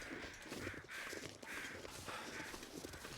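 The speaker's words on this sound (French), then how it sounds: "On entend les corbeaux." Crows caw in the survival video game The Long Dark, several faint, distant calls spaced roughly a second apart over a quiet, windy backdrop.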